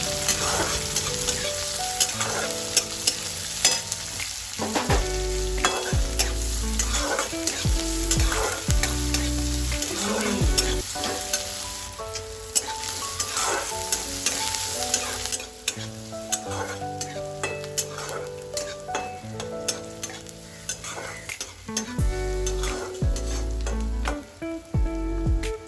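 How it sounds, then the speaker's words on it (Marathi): Finely chopped onion sautés in a pan and is stirred again and again, a loud, steady sizzle broken by regular scraping strokes and bursts of crackle, with no speech. "यामध्ये मी आता चिरलेला बारीक कांदा टाकून घेणार आहे आणि हा कांदा सुद्धा मी लाल होईल तोपर्यंत चांगला परतवून घेणार आहे"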